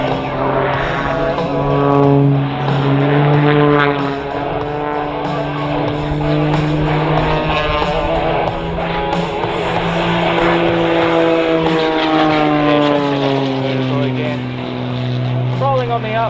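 A Wolf Pitts Pro aerobatic propeller plane drones continuously at an Australian International Airshow, its engine pitch rising and falling as it manoeuvres, with a commentator talking over it.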